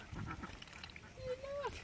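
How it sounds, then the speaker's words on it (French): A duck calls faintly from the Balinese jungle, a single drawn-out quack late in the moment, set against quiet outdoor background noise. "C'est ça, c'est un canard, là."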